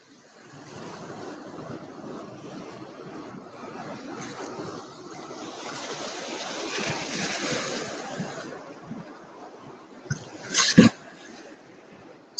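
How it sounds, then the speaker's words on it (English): Ocean waves at Byron Bay rolling in and breaking around a surfer in the water, a broad rushing wash that builds to a heavy crash, followed by sharp splashing bursts near the microphone. "Getting killed by this wave."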